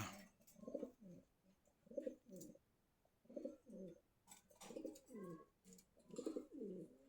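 Pigeons coo in repeated soft, throaty bursts, several birds calling close by in a quiet space.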